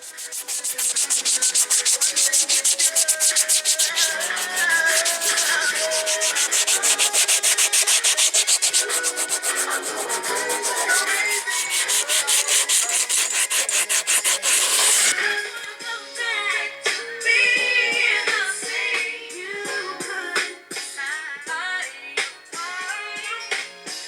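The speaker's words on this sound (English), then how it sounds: "Now I'm finna start hand sanding and getting it smooth enough to paint. Let me go ahead and do this with the 80 grit" Steady, rasping strokes of 80-grit sandpaper worked by hand over a fiberglass car door speaker pod, loud and close, continuing without pause and turning slightly more irregular toward the end.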